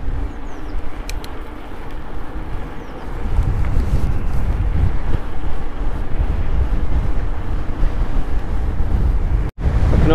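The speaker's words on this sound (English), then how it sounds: "it's that windy" Strong wind roars and buffets the microphone on a mountain bike ride near Darley Bridge, a loud, continuous low rush that grows heavier after a few seconds, with no talking.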